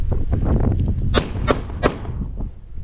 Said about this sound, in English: I can pull off shots and hit Maximilian Bojangles up close and personal